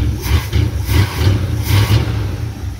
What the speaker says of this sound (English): It's idling a little better, but still got a hesitation.